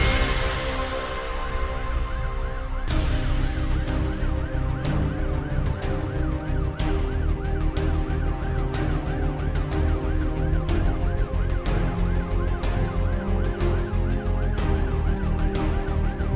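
A police siren wails in a steady repeating rise and fall, rising from a quiet start to full volume, under a rumbling engine and clattering background.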